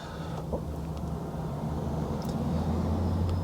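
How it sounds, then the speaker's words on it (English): A steady low rumble of a BMW i8's tyres rolling on the road, constant and droning with faint road noise on top. "sort of the rumble of the tyres against the road"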